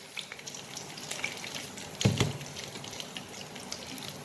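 Cumin seeds (jeera) crackling in hot oil with curry leaves for a Punjabi-style mixed dhal, a steady faint sizzle with a brief louder burst of spitting midway.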